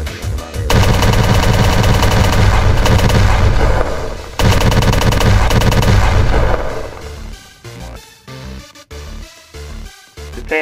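Gunfire from a gun in a video game, rapid continuous loud bursts of automatic fire that pause briefly, resume, then break into scattered shots and explosive thuds, close and dominant with no talking.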